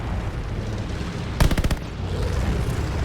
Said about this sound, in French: Mitrailleuse sortie!